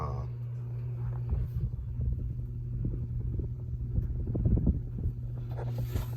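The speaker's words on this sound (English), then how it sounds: "it actually makes the same speed up noise as a Hampton Bay Littleton ceiling fan made by SMC" A Hampton Bay Bridgeton ceiling fan installed in a small indoor nook runs with a steady low hum and a soft, continuous airy rush, with no breaks.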